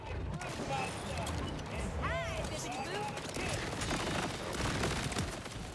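Bursts of Maliwan Plasma Coil SMG fire in Borderlands 4, dense crackling shots and mechanical clatter running nearly continuously at steady loudness through the whole stretch, with faint tonal game effects mixed in.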